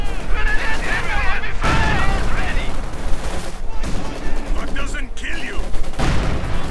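A Maxim machine gun rattles in rapid bursts during a Company of Heroes 2 battle, loud and up front among explosions and other gunfire, with a commentator talking over the combat.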